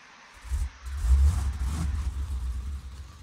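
Vehicle engine in the Gold Hunter game, a low rumbling motor that catches and rises into a steady drone, close and moderately loud, with no voices.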